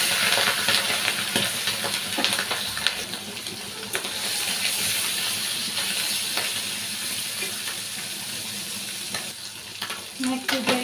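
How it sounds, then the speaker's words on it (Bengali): Fish frying in hot oil in a village kitchen karahi, a dense continuous sizzle with crackles and spits, close and steady throughout, with occasional stirring clatter and no talking. "এই যে মাছগুলো এখন ছেড়ে দিই, গরম হয়ে গেছে তেল"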